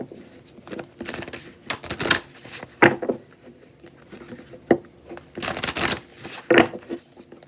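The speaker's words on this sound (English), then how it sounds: "Let's cut the deck." Stiff tarot cards riffled and cut by hand in several quick bursts, crisp papery flutters and slaps near and moderately loud, with short pauses between handlings and no talking.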